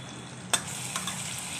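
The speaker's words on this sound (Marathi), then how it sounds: "थोडीशी मिरची पावडर, हळद टाकून घ्यायचे, 2 मिनिटं परतून." Ivy gourd sautéed with tomato, chili powder, turmeric and homemade masala in a pan gives a faint, soft sizzle, with a sharp stirring clink and a second lighter scrape partway through.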